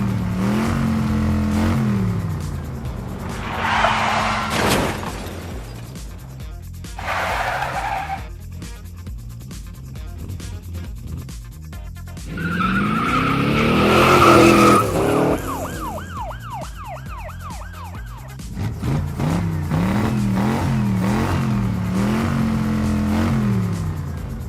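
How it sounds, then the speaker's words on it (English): Monster fire trucks race around a monster truck track, with loud engine revving, sweeping pitch rises and repeated tire squeals and skids, close and continuous. "Monster fire trucks are having a trial race there."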